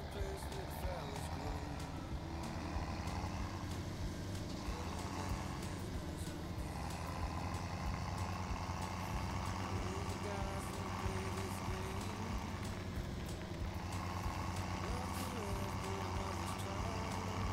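A farm vehicle in Farming Simulator 17 drives back from the wheat field, holding a steady engine drone with faint higher beeps and tones drifting over it throughout.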